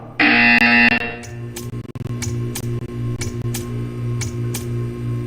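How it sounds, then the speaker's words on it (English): A loud, harsh electronic buzzer blares for about a second in the Portal 2 video game, followed by a run of evenly spaced ticking clicks over a steady low hum. "You will hear a buzzer. When you hear the buzzer, stare at the art."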